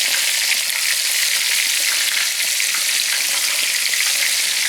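Battered cube steak frying in hot oil, a steady, close and fairly loud crackling sizzle that holds evenly throughout with no talking.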